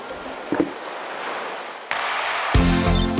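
Ocean waves used as a sound effect, a steady broadband wash of surf that swells louder partway through, with a couple of brief knocks early on and a louder rushing surge near the end.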